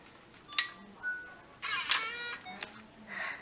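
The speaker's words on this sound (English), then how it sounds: "you can get that awesome old school disc reading sound" Disc mechanism of a Handycam camcorder as the CD holder pops open: a sharp click, a few faint whirring tones, then a brief burst of mechanical whirring and a last soft whir, close and fairly quiet.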